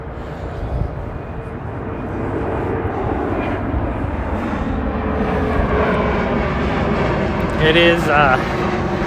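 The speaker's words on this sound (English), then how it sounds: "Here comes another plane coming in." A fixed-wing airplane comes in to land, its propeller engine drone swelling from far off into a broad steady roar under a person talking outdoors.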